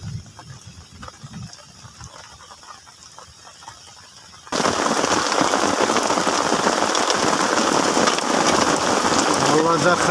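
After a quieter stretch with faint background sounds, heavy rain suddenly bursts into a loud, dense downpour that drums steadily on nearby surfaces during a fishing trip.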